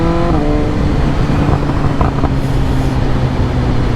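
A 2022 BMW S1000R M Package fitted with Arrow headers and an Akrapovic exhaust revs loudly and close, its engine note rising briefly at the start before holding a steady, dense roar throughout.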